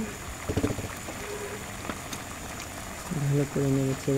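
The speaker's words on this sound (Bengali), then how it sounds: "এখন আলু এবং মাংসটা একসাথে ভালোভাবে সিদ্ধ হচ্ছে।" Chicken curry with potatoes bubbling in a pot, a soft steady simmer with faint pops, while a voice speaks over it near the end.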